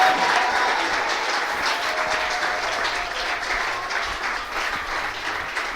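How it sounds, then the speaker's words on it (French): Church congregation applauding together in worship, a dense, steady clapping that fills the space from start to finish at even loudness, with no voices standing out. "acclamons pour le Saint-Esprit."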